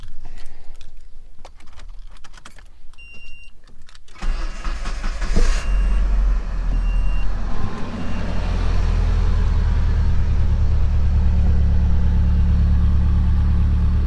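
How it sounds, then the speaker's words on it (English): A Nissan S14 Kouki fitted with Rays wheels clicks and cranks, then its engine fires and settles into a loud, steady idle with a deep, low exhaust rumble. "let me go ahead and turn on the car so you guys can listen to it"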